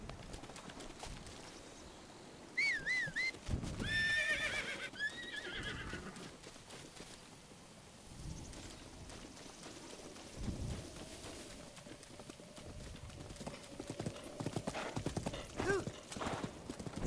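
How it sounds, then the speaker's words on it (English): A donkey in the Zelda: Breath of the Wild video game, with hooves clip-clopping and a braying whinny call, amid game ambience and bird chirps. "Is that a donkey?"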